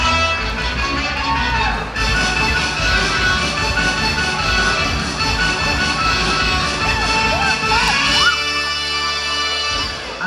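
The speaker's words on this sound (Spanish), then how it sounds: "Fuertísimos aplausos para el muchacho que se ganó la corbata." Loud audience clapping and shouting for a young man who has just won a tie at a festive event in San Agustín Oapan, a dense, continuous roar of applause and cheers with voices mixed in.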